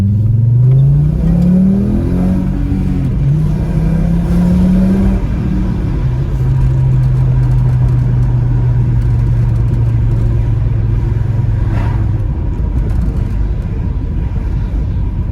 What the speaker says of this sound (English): I approve of the noise. It's a good noise. It's a proper V5 noise.